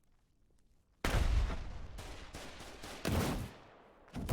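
Bursts of heavy gunfire from the Foxhole war game fill the scene, loud and dense, with sharp onsets around one and three seconds and another blast at the end. A voice is briefly heard beneath the shooting.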